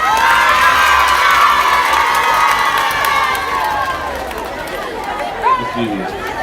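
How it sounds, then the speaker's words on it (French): A crowd cheers and shouts loudly and without a break, with lively chatter and scattered clapping throughout. "Applaudissez pour le rebelle."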